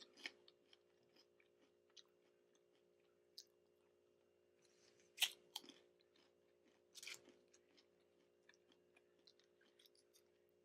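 Crunchy fried beans are chewed close to the mic in a quiet room, giving scattered crisp crunches and clicks, a couple of louder bites standing out, with no talking.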